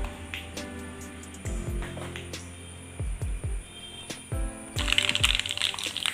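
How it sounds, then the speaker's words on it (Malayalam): Mustard seeds in hot oil for a Kerala jackfruit stir-fry, crackling and popping in scattered bursts over a low hum, with a louder, denser spitting toward the end. "ഇനി കടുക് ചേർത്ത് കൊടുക്കാം"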